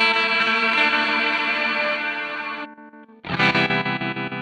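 An electric guitar played through a Zoom G6 multi-effects processor with ping pong delay and reverb: sustained, distorted chords ring loudly, stop briefly with a fading tail, then return with a strong, rhythmically pulsing attack.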